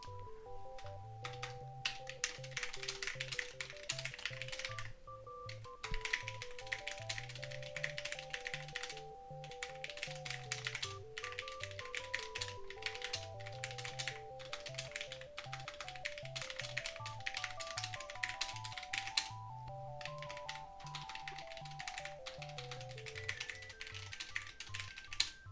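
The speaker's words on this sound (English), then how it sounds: "You can also just kick back and enjoy the sounds of the keyboard" Computer keyboard typing clatters in continuous quick bursts of key taps, close and clear, while a book is being written, with soft looping background music underneath and no talking.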